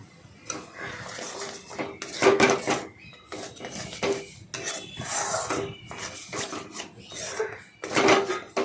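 Raw mango and onion with sugar being stirred in a pan, with repeated scraping and rubbing bursts of a utensil against the metal, fairly close and moderately loud, with brief gaps between strokes.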